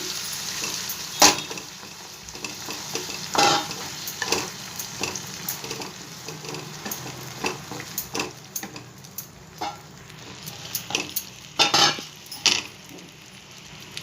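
Boiled, peeled and mashed tomato cooks in a pan of masala gravy for phool makhana curry, with a low simmering sizzle and occasional spoon scrapes and clinks against the pan, fairly quiet.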